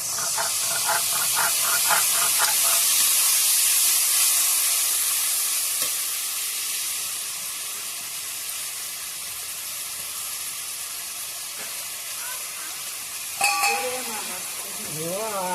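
A little water hits a pan of frying gullar (cluster fig) in a Bengali-style dish, setting off a loud steamy hiss that slowly fades into a gentler sizzle. A voice speaks briefly near the end.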